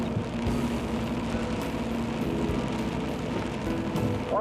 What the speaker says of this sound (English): I hate this rain, mate. It sucks.